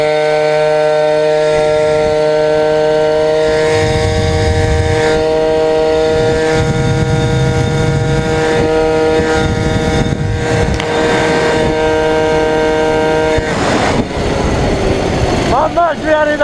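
A Peugeot 103 moped engine with a variator that stays closed and a clutch that never disengages idles with a steady buzzing drone, then revs up sharply near the end, with voices faintly audible in the background.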